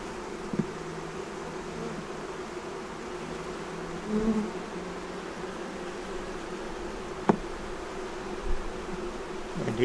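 Honeybees buzz steadily around an open five-frame hive, a continuous low drone with a few louder flybys close by and no voices.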